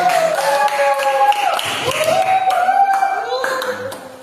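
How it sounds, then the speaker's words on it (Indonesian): Students clap in a classroom, a brief burst of hand claps mixed with overlapping voices talking and calling out nearby throughout. "tepuk tangan Bapak"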